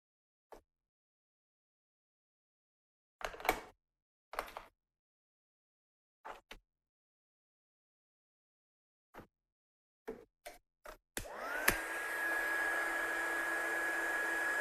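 A heat gun sets ink on a handmade card, starting after a few scattered clicks and taps and then running as a steady, close, loud blowing whoosh with a faint high whine through to the end, with no talking.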